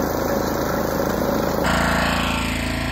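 An old lawn mower engine runs steadily at close range, a loud continuous rumble with a slight change in tone partway through.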